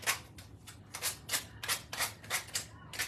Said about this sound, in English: So just sanding this off.